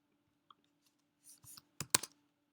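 A few keystrokes on a computer keyboard while entering router commands, a faint single click, then a short cluster of louder taps and a firm final press, close and isolated with no talk.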